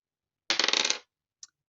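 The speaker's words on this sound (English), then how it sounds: "I'm going to let the dice decide." Dice rolled to pick a cash-stuffing savings challenge: a short, close rattling clatter lasting about half a second, then a single faint click after a pause.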